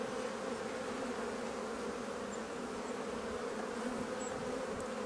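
A large honeybee swarm fills an open hive during a spring inspection, giving a steady, dense, close buzzing hum that holds without pause throughout, with no talking.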